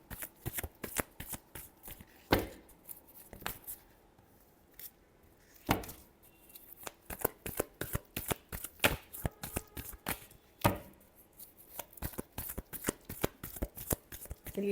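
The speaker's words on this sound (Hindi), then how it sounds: "चलिए लास्ट शफल।" Tarot cards shuffled by hand close up, rapid riffling bursts and sharp snapping slaps in an irregular rhythm with brief pauses, quiet and alone with no talk.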